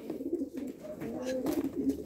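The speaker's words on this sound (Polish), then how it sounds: "To są gołąbki 16 roku, moje lotowe." Janssen racing pigeons in a loft cooing softly, a few low repeated coos under faint background noise and rustling, close but quiet.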